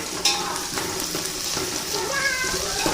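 Whole garam masala spices fry in hot oil for chicken biryani, making a close, continuous sizzle with a few sharp crackles and stirring sounds.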